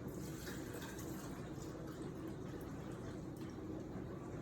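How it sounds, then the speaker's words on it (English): Sweet white Moscato wine poured into a saucepan of golden raisins, a steady close splashing, gurgling pour that runs continuously without pause. "pour 2 cups of our sweet white wine"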